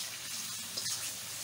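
Water poured from a tap into a pot while cooking Singapore-style rice, a short steady splashing gush heard close by with no talking.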